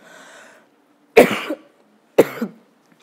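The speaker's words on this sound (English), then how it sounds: "I apologise for the cough." Two separate coughs about a second apart, close and fairly loud, with a faint murmur of breath beforehand and quiet between them.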